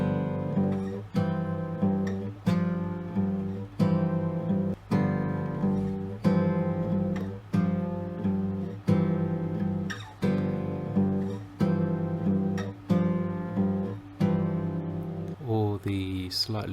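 Fingerstyle guitar plays a steady, repeating pattern of plucked notes and bass, moving through chord shapes with a regular rhythm, close and clear, no voices.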